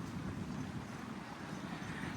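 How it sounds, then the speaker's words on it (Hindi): Cool evening wind blows steadily across a waterfront park by a bay, a continuous low rushing that buffets the microphone, fairly quiet, with no voices. "बहुत खूबसूरत और ठंडी ठंडी हवा चल रही है"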